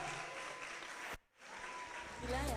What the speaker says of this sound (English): Come on, man, clap her.